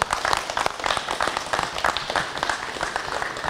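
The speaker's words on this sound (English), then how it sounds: "would you please join me in giving a big round of applause to Officer Wesley Booth." An audience applauds Officer Wesley Booth of the West Fargo Police Department, a dense, steady round of clapping that fills the room for several seconds, loud and continuous with no talk over it.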